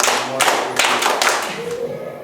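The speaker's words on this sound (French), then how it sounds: "On recommence. Applaudissez pour vous-même." Pupils in a classroom at a school-supplies ceremony clap together for themselves in a few broad, overlapping bursts over steady background chatter.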